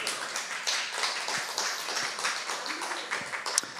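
A lecture audience claps in a room, a scattered run of handclaps at moderate loudness mixed with faint murmuring voices.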